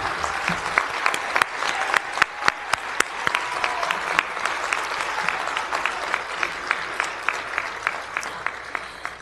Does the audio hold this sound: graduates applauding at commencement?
yes